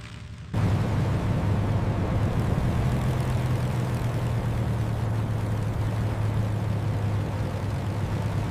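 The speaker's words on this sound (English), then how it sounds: "the formidable Bf-109 achieves rotation and liftoff" The engine of a Bf-109 fighter plane roars at takeoff power as the aircraft rolls toward liftoff. After a brief quieter moment the sound jumps to a loud, steady drone with a low hum that holds to the end.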